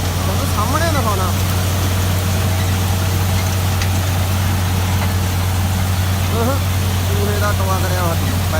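A John Deere 5210 tractor engine runs steadily at a constant low idle-like drone, close and loud throughout, with someone talking over it.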